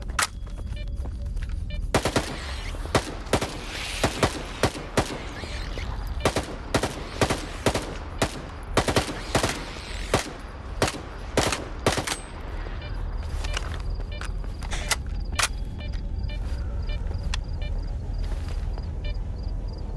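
Gunfire in the S.T.A.L.K.E.R. 2 video game as shots are aimed at rats: loud, close bursts and single shots in an irregular, rapid rhythm, thinning out toward the end.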